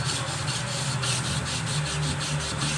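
Knife blade being hand sanded near the plunge line and ricasso, a steady rhythmic back-and-forth rubbing with regular strokes, close and fairly quiet with no talking.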